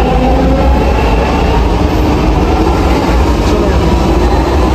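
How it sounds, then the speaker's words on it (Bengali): A Bangalore metro train pulls away, its broad steady rumble and wheel noise filling the scene loudly and continuously, with a faint voice barely surfacing under the roar. "এই মেট্রোটাতেই আসলাম, এটা এখন চলে যাবে, এখনই চলে যাবে।"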